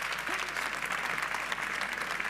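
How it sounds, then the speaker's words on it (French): Steady applause from an audience at a fireside chat talk, a dense even patter of many hands clapping throughout, moderately loud and without talk. "Je pense qu'on peut applaudir."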